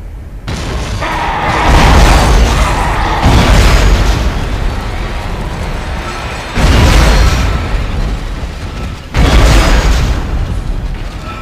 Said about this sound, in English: this is a very good place to use the force gun